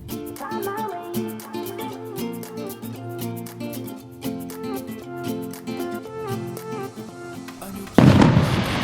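New Year's Eve fireworks crackle faintly under steady music, then a loud, dense burst erupts near the end.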